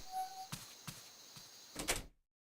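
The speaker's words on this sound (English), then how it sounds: "Junpei shuffled up the stairs and opened the door to apartment 201." An apartment door opens in a visual novel game sound effect, giving a few soft knocks and clicks that end in a louder thunk before abrupt silence.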